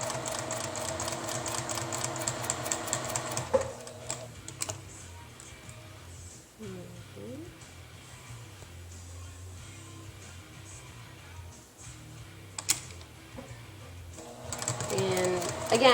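A Juki TL2010Q sewing machine stitches in a rapid, even rhythm for the first few seconds and runs again near the end. The middle stretch is quieter, with softer handling noises between the bursts.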